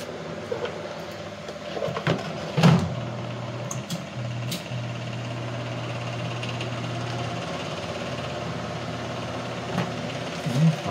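An exhaust fan runs with a low, steady hum, with a few brief knocks and clicks from handling nearby.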